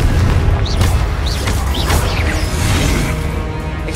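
Confringo blasting spells explode in Hogwarts Legacy, with loud repeated booms and crashing bursts mixed with whooshing magic effects in a dense, continuous battle din.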